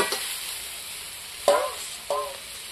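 Water poured into frying spices in a pan for a lentil and vegetable curry sizzles against a steady frying hiss, with two sharp bursts of sizzle and stirring, close and without speech.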